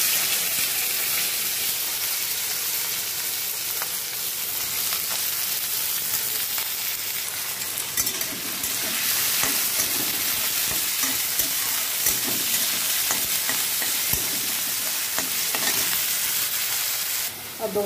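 Chopped beans, onion and spring onion sizzle steadily in a hot pan in a home kitchen while a utensil stirs them, producing a constant loud frying hiss with scraping and clinks throughout.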